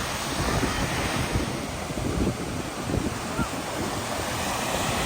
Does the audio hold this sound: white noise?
no